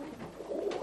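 Tippler pigeons at a club loft coo softly in a brief, low murmur, faint and close, with no talk over it.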